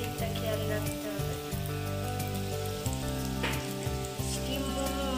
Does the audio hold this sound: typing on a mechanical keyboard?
no